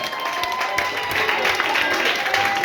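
A church congregation claps and cheers in praise of the Lord, a dense, steady wash of applause and crowd voices lasting throughout.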